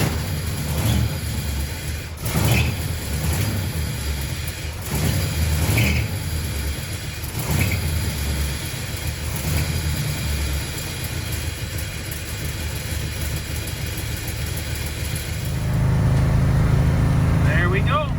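A 1970 Oldsmobile Cutlass V8 rumbles steadily at idle for most of the stretch, then swells louder and fuller near the end as the engine is revved.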